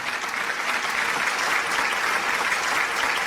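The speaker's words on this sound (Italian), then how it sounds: "Facciamo un forte applauso." Studio audience at a television talent show breaks into steady, dense applause that fills the whole moment at an even, fairly loud level, with no voices standing out above the clapping.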